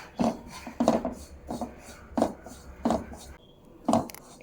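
Mustard seeds with a little lentil dry-roast in a pan on a low flame, stirred in a steady rhythm of about seven dry scraping strokes, close and moderately loud.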